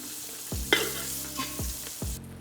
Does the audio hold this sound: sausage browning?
yes